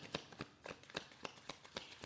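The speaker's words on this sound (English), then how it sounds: "But I'm going to also shuffle because that flew out." A deck of tarot cards is shuffled by hand in quick riffling bursts, about ten crisp snaps in a fairly even rhythm, close and fairly quiet, with no voices.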